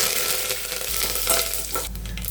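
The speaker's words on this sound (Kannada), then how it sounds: "ಆಯಿಲ್ ಕಾದಿದೆ ನೋಡಿ ಜೀರಿಗೆ ಮತ್ತು ಸಾಸಿವೆ ಹಾಕ್ತೀನಿ" Cumin and mustard seeds crackle and sizzle in hot oil for a sambar tempering, a steady dense frying hiss with brief popping bursts, close and fairly loud, with no talking.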